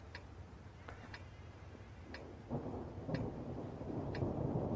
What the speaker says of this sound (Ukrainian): Так, у нас тут дощ. Їдемо в дощ.